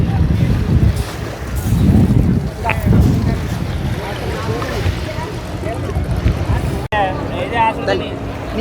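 Boats at the Katchatheevu island festival, heard as a steady low rumble of engines and water wash mixed with heavy wind buffeting the microphone, while people talk nearby.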